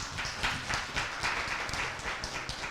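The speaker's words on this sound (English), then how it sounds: "Please give them a round of applause." Audience applause at the close of a political candidate forum for a New Mexico House district race, a moderately loud burst of scattered clapping with a few voices mixed in, steady across the short span.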